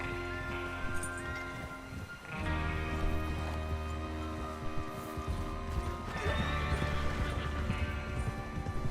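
Horse hooves clip-clop steadily at a gallop beneath loud sustained music, with occasional whinnies mixed in, in the video game Red Dead Redemption 2.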